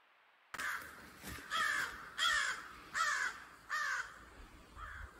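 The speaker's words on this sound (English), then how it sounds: "Lots of crows around. They've been following us for a long time." Crows caw in the woods, five harsh calls in a steady series, fairly near and clear over quiet forest ambience with no talk.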